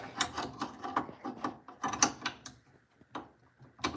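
A ratchet wrench clicks repeatedly while working on a scooter bracket, giving a close, irregular series of sharp ratcheting clicks in quick bursts with no talking.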